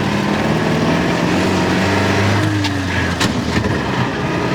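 A 1929 Austin 7 Chummy being driven, its small engine droning steadily and loudly with a strained clutch whine rising in the middle, plus a few brief knocks near the end.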